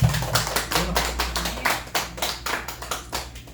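A church congregation at a Korean Sunday service clapping in unison, rhythmic rounds of clapping in quick bursts, fairly close and loud, with no talking over it.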